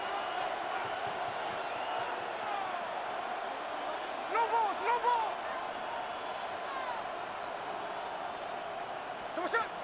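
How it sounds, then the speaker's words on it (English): Stadium crowd in the Madden NFL 26 football video game building up ahead of a big third down, a steady broad roar with a few brief swells of cheering near the middle, under some talk. "the crowd getting into it as we come up on a big 3rd down"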